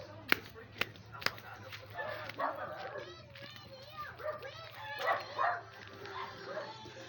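A dog yips and barks in a few sharp bursts at the start, then the scene fills with faint children's voices and chatter at a distance.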